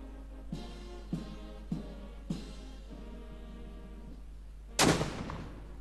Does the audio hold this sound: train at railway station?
no